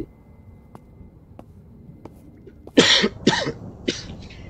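Three or four harsh coughs in quick succession, close and loud, following a few faint clicks in a quiet room.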